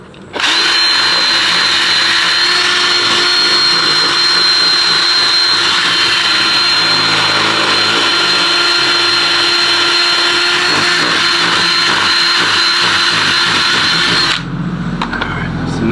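A power drill driving screws into an aftermarket bumper while refitting fog lights on a Dodge Charger, one loud continuous high whine lasting about fourteen seconds close up, stopping abruptly near the end.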